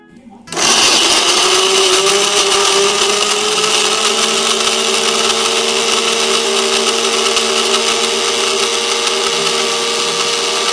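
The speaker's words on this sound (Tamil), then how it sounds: "சின்ன வெங்காயத்தை மிக்ஸி ஜாரில் போட்டு அரைச்சி எடுத்துக்கலாம்." A mixer grinder grinding small onions starts abruptly and whirs loudly and continuously, a steady high-pitched motor whine grinding without pause.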